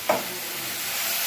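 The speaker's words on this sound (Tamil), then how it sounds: "இப்போ கத்திரிக்காய் வதங்கணும்" Eggplant sautés in a pan with a close, steady hiss of sizzling, opened by a brief scrape of stirring.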